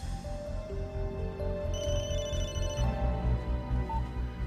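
A telephone rings with a steady electronic tone pattern over a constant low background hum, with no voices heard.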